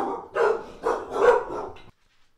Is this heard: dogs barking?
yes